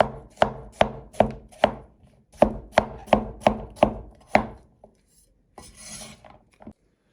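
A knife chops through peeled pumpkin on a board in sharp, even strokes, two quick runs of about six cuts each, close and crisp, followed by softer scraping and handling.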